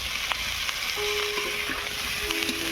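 Drumstick flowers being fried and stirred with potatoes in a pan for a Bengali chorchori, a continuous loud sizzle with occasional scraping stir strokes, close and steady, no talking.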